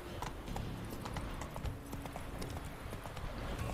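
A horse gallops in The Witcher 3: Wild Hunt, its hooves drumming in a steady, continuous clatter over a dense game soundscape with no talk.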